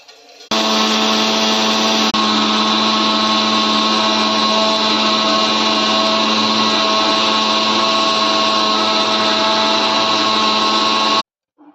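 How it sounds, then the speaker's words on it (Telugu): A kitchen mixer grinder powers up and grinds dry-roasted curry leaves, coriander and fenugreek with a loud, continuous motor whine that holds steady for about eleven seconds before it cuts off abruptly. "సో ఇప్పుడు నేను మిక్సీ కట్టేస్తాను"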